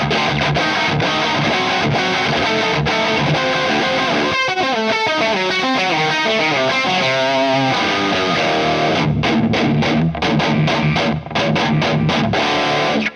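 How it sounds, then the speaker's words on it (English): A Strat-style electric guitar driven through a Michelangelo Dophix overdrive pedal with every control at maximum, shaped with EQ into a heavy metal tone, playing loud, thick, saturated riffs with chugging chords and single-note runs. "Combining with EQ you can get really convincing heavy metal type of tones from a Strat."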